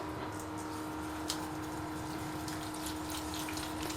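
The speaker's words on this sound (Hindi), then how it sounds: "थोड़ा थोड़ा पानी शामिल करेंगे।" Water trickling steadily into gram flour batter for dahi phulki, a faint continuous pouring under a low background hum.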